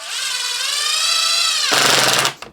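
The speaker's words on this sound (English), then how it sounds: "So now let's do a couple with the Ryobi and get a feel for that." A Ryobi impact driver drives a deck screw, first a loud close whining motor run that shifts into rapid rattling impacts near the end before stopping, with no talking.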